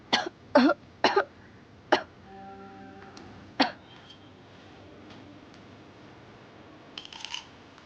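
Harsh coughs burst out close by in a quick run of four and then two more after short gaps, followed by quieter background sounds and a faint brief voice.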